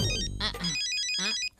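A phone rings with a bright electronic ringtone in two short bursts separated by a pause, fairly close and clear, over a low background rumble at the start.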